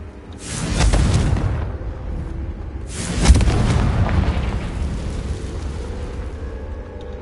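Two loud booming blasts of the Confringo fire spell in Hogwarts Legacy, one near the start and another about midway, each a broadband burst decaying into a rumbling tail, with no talking.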